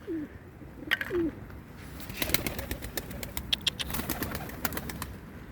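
Tumbler pigeons being called in by a voice repeating a soft calling cry, with pigeon coos and wing flaps close by and sharp wing claps and flutters as birds arrive overhead, over steady outdoor background noise.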